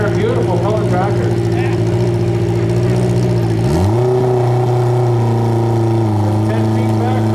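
A modified John Deere lawn tractor's engine roars continuously at a tractor pull, then drops sharply in pitch midway and settles into a steady lower drone.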